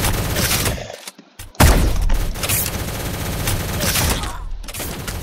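Shotgun fire in the online egg-themed shooter game Shell Shockers: loud, dense bursts of blasts that cut out briefly and then resume hard and steady to the end.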